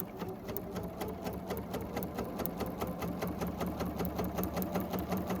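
A sewing machine stitches steadily along a marked line while piecing a quilt block, with a fast, even mechanical rattle of clicks that holds close and constant throughout.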